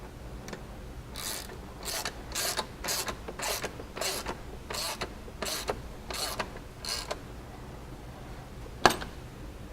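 A hand ratchet clicks in quick repeated bursts while snugging bolts on Wildcat XX A-arm skids, a run of about a dozen rhythmic ratcheting strokes, close and fairly quiet, then a pause and a couple of sharper clanks.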